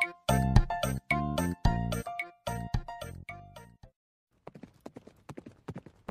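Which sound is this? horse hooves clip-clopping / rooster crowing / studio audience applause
horse hooves clip-clopping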